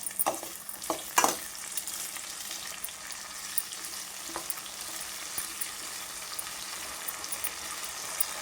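Onions sautéing in a pan, a quiet continuous sizzle with a few clattering stirs and scrapes early on, then softer occasional taps, close and without speech.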